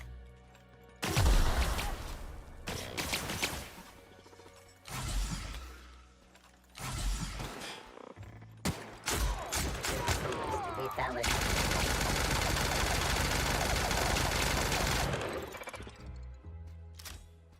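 Gunfire against mechanical sentries in The Outer Worlds comes in loud bursts and rapid automatic volleys, with a long sustained stretch of fire near the end and mechanical clanks between shots.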